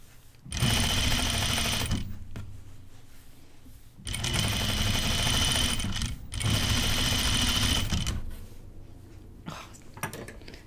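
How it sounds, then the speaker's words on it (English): A sewing machine stitching a tunic garment, running in three steady whirring bursts of a couple of seconds each with brief pauses between, close and loud, followed by quieter mechanical clicks. "I always try and keep most of my garment on the machine so that's not pulling against the needle too."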